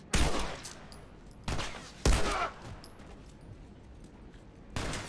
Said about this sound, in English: Gunfight. Where am I getting shot from?